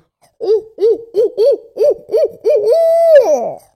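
A person imitates an owl with the voice, giving a series of about seven short rising-and-falling hoots in a steady rhythm, then one longer drawn-out hoot that trails off, loud and close with no talking.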